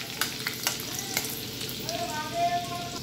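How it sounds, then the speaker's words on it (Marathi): Halved garlic cloves fry in hot oil with a continuous crackling sizzle, a few sharp spatters and spoon taps near the start, close-up, with a faint tonal squeal near the end and no one talking. "तेलामध्ये लसूण टाकायचं"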